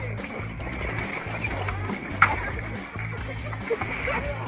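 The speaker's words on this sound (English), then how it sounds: "I think we should splash that rock" River water splashes and sloshes steadily against a rock during white water rafting, a continuous close wash of spray and churn, with people talking over it.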